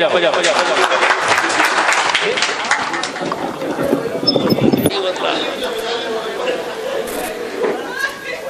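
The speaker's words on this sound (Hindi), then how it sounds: "एक बार उनके लिए जोरदार तालियां तो जरूर बजा ही दीजिए" Audience applause and cheering at an Urdu mushaira poetry gathering, a dense sustained wash of clapping mixed with crowd chatter, loud throughout and easing slightly near the end.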